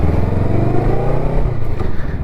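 Motorcycle pulling away on a learner ride with a loud close engine drone that climbs in pitch, then dips briefly near the end as it shifts gear, with no talking.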